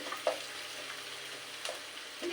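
Shrimp fry in a pan for a kochu shaak dish, giving a steady close sizzle with a few soft stirring scrapes and light clinks and no talking.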